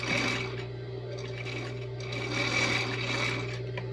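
A sewing machine runs a steady continuous stitch over slippery dress fabric, backstitching at the end of a seam, with a constant motor hum and no talk.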